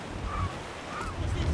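In Assassin's Creed IV Black Flag, wind and ocean waves at sea make a steady, low, rushing wash with gusty swells that rise near the end, heard alone without talk.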